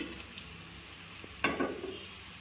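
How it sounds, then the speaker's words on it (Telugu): Washed crabs go into a hot pan for crab curry, a sudden sizzling burst about midway that fades gradually, with faint stirring scrapes before it. "బాగా కడిగి పెట్టుకున్న పీతలు వేసుకున్నామండి."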